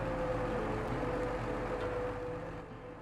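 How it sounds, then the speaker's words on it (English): A heavy truck engine in the Snowrunner game hums with a steady low drone and a faint whine, constant and moderately loud throughout before easing slightly at the end. "Too loud, that truck."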